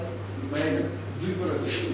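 A female German Modena pigeon gives soft, low coos, two or three brief murmuring calls close by over a steady background hum.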